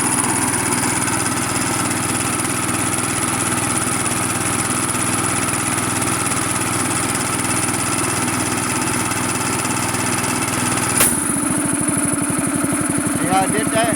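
A gas-powered air compressor engine runs loud and steady at speed, then abruptly drops to a lower, rougher idle near the end.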